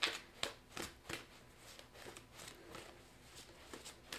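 Mystic Mondays tarot cards being shuffled, giving quiet repeated riffling snaps at a steady rhythm, faint and close, with no voices.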